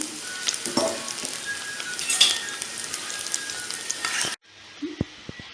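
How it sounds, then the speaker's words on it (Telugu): Chopped garlic sizzling steadily in hot oil in a pan for street-style veg Manchurian, a close, even frying hiss that breaks off near the end into a quieter sizzle with a few light utensil taps. "ఫస్ట్ గార్లిక్ గార్లిక్ అయితే వేసుకొని ఫ్రై చేసుకోవాలి"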